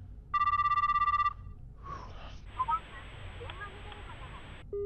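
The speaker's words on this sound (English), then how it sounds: "I have to call Mocha. Fuck it, this is loud" A video game phone rings through a single steady electronic tone lasting about a second while a call is placed, followed by a softer, noisy game background.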